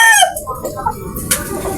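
A broody Bulik hen clucks close by, with a short run of loud, strained clucks at the start that fade into softer, scattered clucking.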